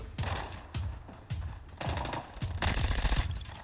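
Video game gunfire in Arena Breakout: about six sharp, loud shots or short bursts at irregular intervals, close by, with no talking.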